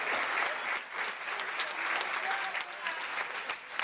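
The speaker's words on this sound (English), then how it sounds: "how about a big round of applause out there for Matthew and Kristen for those great speeches out there" Audience applause at a wedding reception after the speeches, a dense, steady wash of many hands clapping close by, with faint voices mixed in beneath it.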